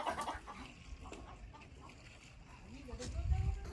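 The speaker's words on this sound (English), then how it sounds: "Yeah, Rosie special chicken." A special pet chicken clucks on an off-grid farm on the Amalfi Coast, with soft intermittent clucks through the clip and a louder, closer burst near the end, mixed with low background noise and some voice.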